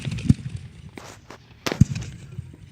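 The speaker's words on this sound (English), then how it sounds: "Let the fireworks take over." Consumer fireworks go off outdoors with two sharp, loud bangs spaced over a second apart, each followed by softer crackling and fizzing bursts between them.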